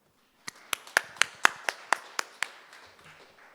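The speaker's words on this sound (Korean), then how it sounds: "큰 박수로 환영해 주시기 바랍니다." A few people clap at an ICT industry outlook conference, welcoming a KAIST professor to speak: about nine sharp, evenly spaced claps, fairly close, that fade out after a few seconds.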